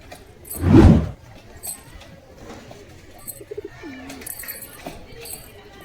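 Deshi Metraj pigeons, including a young squab, give soft, brief coos nearby after a loud clattering handling noise at the start.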